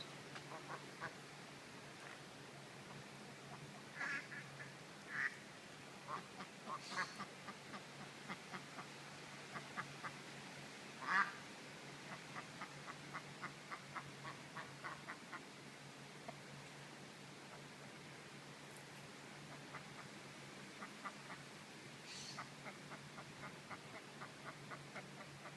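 Ducks quack repeatedly at feeding time, with other birds around, making short bursts of fairly faint calls over a steady outdoor background hiss.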